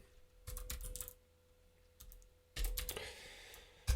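Someone types on a computer keyboard in short clattering bursts, separated by brief pauses and faint background hum, with no talking.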